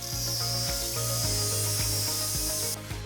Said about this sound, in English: And with a hacksaw or an angle grinder, cut your C-Track rails.